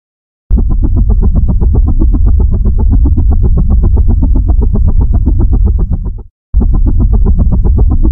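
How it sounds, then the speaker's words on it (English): A fast, steady chopping pulse of helicopter rotor blades, loud and continuous, cutting out briefly near the end before resuming. "Helicopter."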